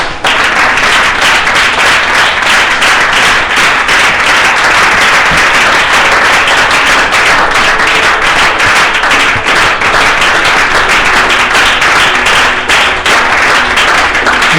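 Church congregation clapping and applauding to acclaim Jesus, a dense, loud, continuous wash of many hands clapping that carries steadily throughout with no pauses.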